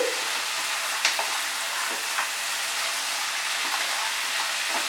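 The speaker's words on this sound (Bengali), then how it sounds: "আমি ফ্লেমটাকে বাড়িয়ে দিয়ে ভালো করে এটাকে নেড়ে নিচ্ছি।" Mutton being stirred in a pan over a high flame for a Bengali curry, a steady, dense sizzle of frying with a few soft scrapes and knocks of the spoon, close and continuous with no talk.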